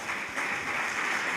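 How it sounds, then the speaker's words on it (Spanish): A church congregation claps together in praise during a Spanish-language service, a steady, moderately loud wash of many hands clapping throughout the brief moment. "Dele un fuerte aplauso al Señor."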